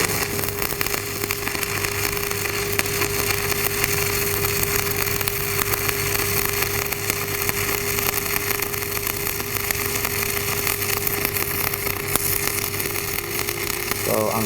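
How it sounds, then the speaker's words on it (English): Arc welding with a 7024 jet rod, the bead dragged along a tie-in, gives a steady crackling, sizzling hiss that holds loud and even throughout. "Gonna strike my arc about 1 inch before, do a 6 pattern on the tie-in, and drag it all the way through."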